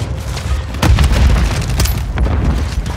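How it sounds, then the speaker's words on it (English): A Semtex grenade detonates in Call of Duty: Warzone multiplayer, a loud heavy boom with a rumbling tail that holds for several seconds. "Tossing Samtex. Grenade!"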